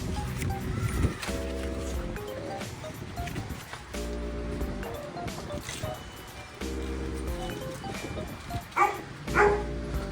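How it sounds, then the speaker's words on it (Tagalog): Dogs bark repeatedly in clusters of several woofs, fairly close, with quieter stretches and some background noise between bursts. "May mga aso na."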